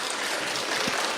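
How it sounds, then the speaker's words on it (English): Audience at a Star Wars fan festival panel applauding a guest, a dense, steady wash of clapping that fills the short moment. "Big round of applause for Jay, please"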